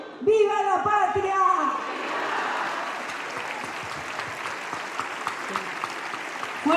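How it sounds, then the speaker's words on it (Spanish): Audience applause for students at a pledge ceremony, a steady crowd clapping that follows a brief burst of voices, continuing at an even level. "Fuerte el aplauso para cada uno y cada una de los estudiantes"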